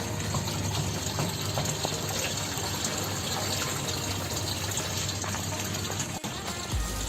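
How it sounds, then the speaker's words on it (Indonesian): Hydroponic nutrient solution pours steadily into a water tank in a continuous gushing, splashing flow, close and even in level throughout, with a brief dip near the end and no talking. "langsung saja kita masukkan lagi ke dalam tandon air"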